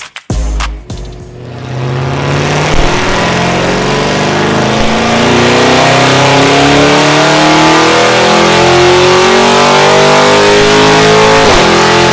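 A Land Rover SVR fitted with a Veleno titanium exhaust starts up on a dyno, then its engine climbs in a long, steady, very loud rev that drops off sharply near the end.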